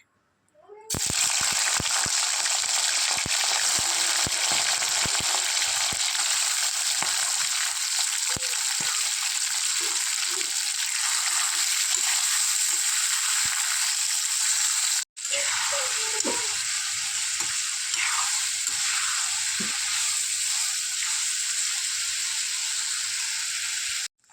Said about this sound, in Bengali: প্রথমে আমি মাংসগুলা একটু লাল লাল করে ভাজা করে নেব